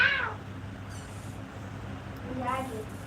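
A cat meows indoors, a clear mewing cry at the start followed by two softer meows, alone with low room hum.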